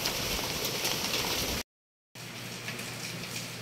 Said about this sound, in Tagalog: Medyo malakas na ang ulan